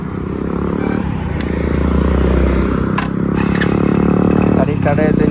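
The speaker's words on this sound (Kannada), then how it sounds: "ಗಾಡಿ ಸ್ಟಾರ್ಟ್ ಆಯ್ತು, ಇನ್ನು ಹೊರಡೋಣ." A motorbike engine running steadily and loudly just after being started for a trip from Bangalore to a home village, a dense continuous rumble with some mechanical clatter throughout.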